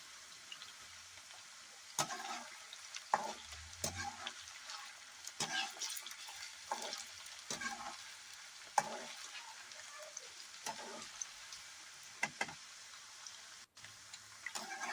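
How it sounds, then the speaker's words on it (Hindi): Mushrooms frying lightly in oil for a Kashmiri wazwan-style mushroom yakhni give a quiet, continuous sizzle, broken by scattered soft clicks and stirring knocks. "हमें इन्हें हल्का सा फ्राई करना है ज़्यादा डीप फ्राई नहीं करना है"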